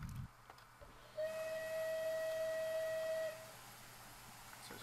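A steam locomotive whistle in Train Simulator, from a Bulleid Light Pacific, sounds one sustained, steady, clear tone for about two seconds over a low rumbling background, fairly close and alone.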